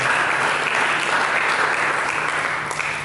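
Church congregation applauding during a Sunday sermon, a dense continuous wash of clapping throughout, even and moderately loud.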